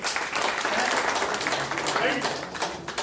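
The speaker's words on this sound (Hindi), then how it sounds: "चलो जोरदार तालियां भाई" An audience at an LIC insurance pension and child plan seminar claps in a dense, steady burst lasting a few seconds, with voices talking over it.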